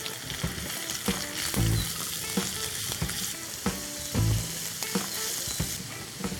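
Chopped onions with curry leaves sizzling in a pan, a continuous crackling fry broken by periodic louder stirring scrapes and thumps, close and clear.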